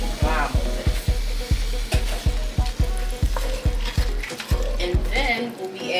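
A can of tomatoes stirred into sizzling vegan chili in a pot, with a regular series of loud, close spoon scrapes and thumps over a continuous frying hiss that stops near the end.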